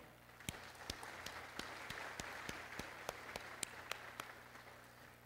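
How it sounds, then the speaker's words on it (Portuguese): Scattered, fairly regular hand claps at a formal solemn session in the Brazilian Chamber of Deputies honouring Infraero's 45th anniversary; the claps sound distant and faint against a low room hum. "Eu vou pedir uma salva de palmas para a democracia antes de mais nada."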